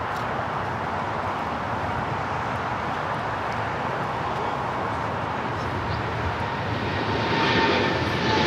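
Boeing 777 jet rolling at LAX airport, a steady distant engine roar and rumble that swells slightly toward the end, heard alone without talk.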